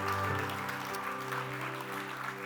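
A church congregation applauds, a steady wash of clapping that fills the whole moment, with faint organ or keyboard tones sustained underneath.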